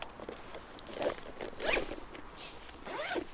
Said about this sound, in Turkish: fermuarları.